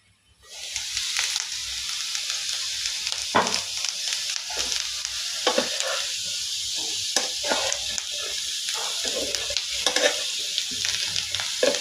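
Potatoes fry in a covered pan with a continuous close hiss, interrupted by irregular scrapes and knocks as they are stirred, steady and alone for about twelve seconds.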